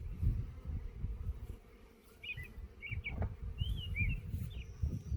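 Bees buzz thickly at an open beehive, a close, continuous low drone with shifting intensity, while a few short bird chirps ring out faintly in the background.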